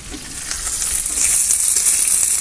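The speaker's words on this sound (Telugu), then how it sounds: "కడాయిలో ఆయిల్ వేసా ఆయిల్ వేడితా ఉంది ఇవి వేసేసుకొని" Vegetables frying in hot oil in a kadai over a wood-fired stove, a steady close sizzle that swells louder and denser as the pieces settle into the oil, with no talking.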